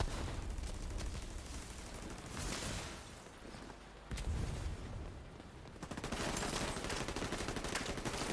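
Assault turret gunfire in The Division 2 rattles in dense, continuous bursts, loud and close, with a short lull near the middle before firing resumes. No voices.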